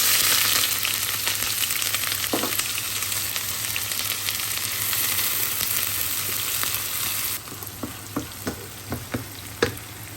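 Onions frying in hot oil for an iftar dish, a dense, loud and continuous sizzle up close that eases off toward the end, where a few sharp utensil taps break through, with no one talking.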